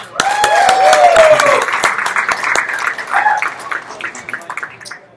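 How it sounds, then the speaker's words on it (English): Audience applause for a speaker at a live security meetup, steady broadband clapping that swells early and gradually thins out, with a voice speaking over the opening second or so. "let's give Ryan a big round of applause"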